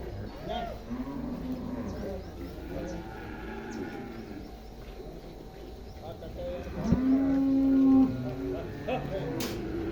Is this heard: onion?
no